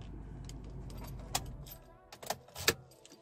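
The key of a Maruti Suzuki Fronx Delta Plus 1.2 manual jangles in hand, with a few sharp metallic clinks and rattles standing out over a low, quiet background.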